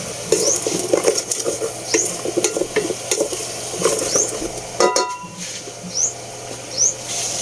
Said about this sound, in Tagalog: Pagkatapos natin gisahin yung ating lamas, lagay na natin yung ating gulay.